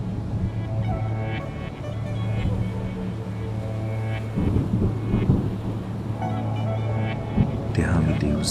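Steady rain falls beneath a continuous low rumble of thunder that swells partway through, a dense, even wash of sound with no one talking.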